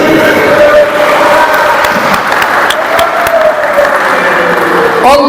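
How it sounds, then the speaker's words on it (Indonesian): Loud, continuous applause from a crowd at a Pasaribu family gathering in Babelan, filling the whole stretch with a steady roar of clapping and voices over a faint tonal background. "kita sudah jauh tepuk tangan dulu"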